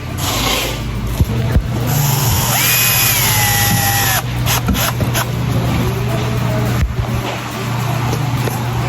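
A power drill drives screws into a computer table during assembly, a steady loud whirring motor running through most of the stretch with brief pauses and bursts, close by.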